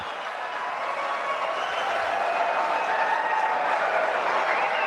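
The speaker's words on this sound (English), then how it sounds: "Look at the crowd howling." A large crowd cheers and applauds in a dense, unbroken roar that holds at a steady, loud level throughout.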